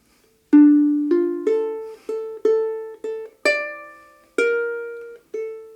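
Solo ukulele plays the second phrase of the St. James Infirmary Blues chord melody, a pickup followed by about nine distinct plucked notes and chords at a slow, steady pace, bright and close with each note decaying before the next.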